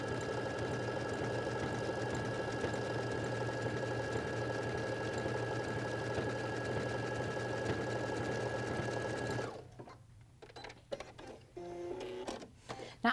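A Baby Lock sewing machine with an edge joining foot stitches two fabrics in a steady, close mechanical whir for several seconds, then stops, leaving faint clicks and handling noises.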